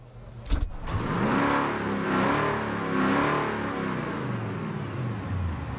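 A car engine in Mafia: The Definitive Edition revs up after a short burst of noise, then holds a loud, close, smoothly rising and falling drone that carries steadily to the end.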